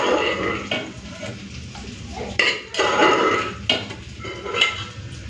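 Cooked bottle gourd with green peas is scraped from a kadai into a bowl, giving a few loud metal spoon-on-pan clanks and scrapes between quieter shuffling, close and without talk.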